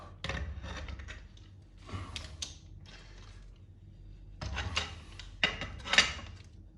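A pipe compression fitting for a boiler install being tightened with large spanners, heard as close, short bursts of metallic rubbing and ratcheting scrapes with quiet pauses in between and no talk.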